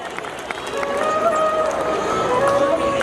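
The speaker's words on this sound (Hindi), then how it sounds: "एक बार जोरदार तालियां प्यारी बच्ची के लिए।" An audience claps for a student at a school annual function at Eklavya Sports School, Sisai. The clapping is a broad, continuous patter that swells slightly and stays steady throughout, with a light crowd murmur underneath.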